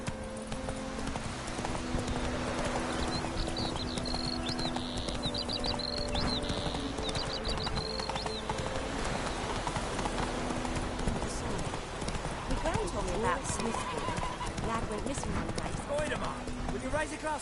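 Roach, a horse in The Witcher 3 game, gallops with a steady, continuous clip-clop of hooves under game music and ambient noise, with a voice talking over it.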